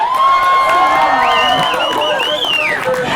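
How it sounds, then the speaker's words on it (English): A live crowd at a show cheers and shouts loudly and continuously, with whoops and high cries rising over a dense roar of voices. "I like that you're cheering for me."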